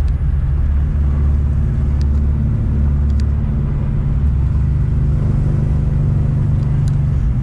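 Abandoned Plymouth Scamp on the road after sitting 16 years, its engine hesitating, a loud continuous low rumble of engine and road noise from inside the car, steady and unbroken.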